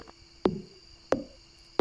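An axe chops in the video game Stardew Valley, three sharp crisp hits spaced evenly about two-thirds of a second apart, each with a short woody tail, over soft game music.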